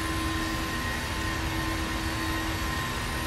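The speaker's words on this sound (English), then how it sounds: "That was amazing takeoff." Aircraft taking off in the Prepar3D flight simulator: a steady, dense jet roar with faint high whining tones, constant and loud throughout with no talking.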